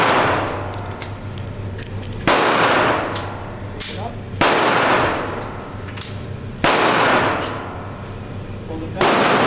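Gunshots at an indoor gun range ring out four times at steady intervals, each a loud, sharp crack followed by a long echoing decay, with faint talk in the background.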